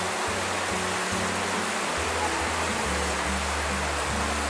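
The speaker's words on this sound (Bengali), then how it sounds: "দেখো বৃষ্টির আওয়াজ পাচ্ছ, বিশাল বৃষ্টি হচ্ছে।" Heavy monsoon rain in Darjeeling, heard as a dense, steady roar of downpour filling the space evenly over a low hum, with no talking.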